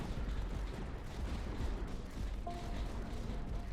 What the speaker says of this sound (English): Oh, look at that mortar fire!